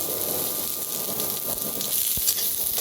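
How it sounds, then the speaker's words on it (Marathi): Half an onion roasts in oil in a pan on a wood-fired clay stove, giving a loud, steady sizzle with scattered crackles and pops and no talking. "आता ह्याच्यातच कांदा मी भाजून घेऊया"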